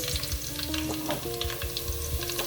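Onions sizzle and fry in a pan with ginger and garlic for a Ghanaian okra fish stew, a steady close crackle with soft scraping and stirring taps throughout.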